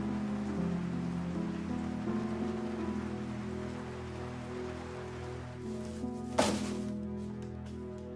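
Steady rain falls as a dense, even hiss throughout, with a faint low hum beneath and one brief louder burst near the end.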